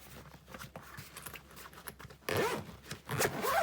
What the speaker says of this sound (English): I'm going to zip this so I can flip it on its side.